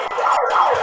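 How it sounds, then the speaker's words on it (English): A siren wails at a pinball tournament to start the next round, a steady rising-and-falling tone over about a second, fairly loud. "And our next round, if you can hear the siren in the background,"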